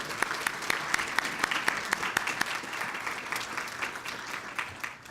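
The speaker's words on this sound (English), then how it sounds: "Let's give them another round of applause." Audience applauding teachers of the year at a school district luncheon, steady clapping from a roomful of people with a few sharp nearby claps standing out, fading slightly toward the end.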